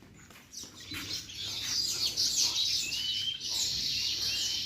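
Busy high chirping from several squabbling sparrows in the early morning, overlapping and agitated, fairly close, with a brief flutter near the start and no voices.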